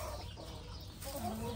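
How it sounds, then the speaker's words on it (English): Chickens cluck softly in a backyard chicken house in Australia during egg collection, a few faint calls over low background noise, with no talk. "Look, ang daming manok."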